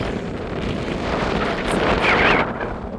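Strong wind buffets the microphone on a hilltop in the Brecon Beacons near Skirrid Fawr, a loud continuous roar with gusty surges that swell near the end.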